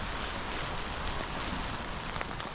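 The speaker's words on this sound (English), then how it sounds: "We got a little bit of shelter now from the rain." Steady rain falls outdoors near a lake in back-country wilderness, where canoeists shelter from it. The hiss is dense and unbroken, moderately loud and close, with no talk.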